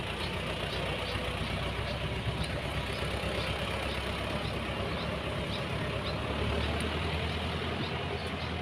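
Farm tractor engine running in a field being plowed for planting, a steady low rumbling drone at moderate distance with faint voices in the background.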